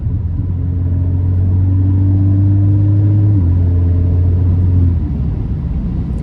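An Alfa Romeo Giulia accelerating on the road, a loud steady engine drone that rises in pitch, drops briefly at a gear change, climbs again and then eases off near the end.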